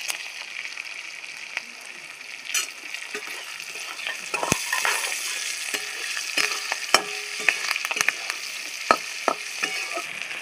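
Cashews and raisins fry with green chilli and curry leaves in a hot pan for a flattened-rice pulao, giving a steady sizzle punctuated by sharp crackles and spatula scrapes and stirring clicks.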